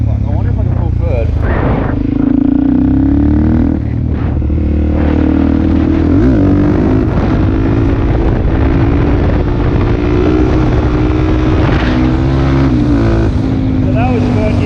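A Suzuki DRZ400 dirt bike fitted with a JD Jetkit and K&N filter pulls hard in third gear, its engine drone climbing and dipping in pitch under heavy wind buffeting for the full stretch.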